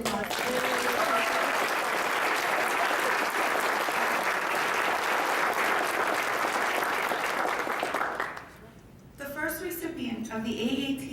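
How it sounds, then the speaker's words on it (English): A conference audience at the 2015 AATCC International Conference gives sustained, full-room applause during an education award presentation. The clapping runs strong for about eight seconds, then drops away as a speaker begins talking. "Can we give her a round of applause?"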